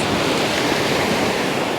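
Ocean surf on a Florida beach at Vero Beach rushes in a loud, continuous roar of breaking waves, close by and mixed with wind buffeting the microphone, with no voices.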